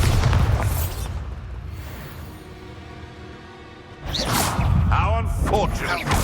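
In the Hogwarts Legacy video game, a Bombarda spell lets off a booming blast with a whoosh, then a quieter rumbling lull before a second loud burst of impacts. Game voices shout during the clip.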